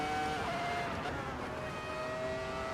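A 2004 Formula 1 car engine in the Assetto Corsa racing game screams at high revs, a steady, loud whine with shifting pitch lines through a short stretch and no talking.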